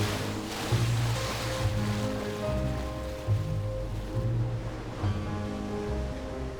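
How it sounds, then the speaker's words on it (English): Ocean waves crash and wash in a steady, continuous surf with a low rumble and recurring swells, fairly loud, with no voices. "The waves keep on crashing."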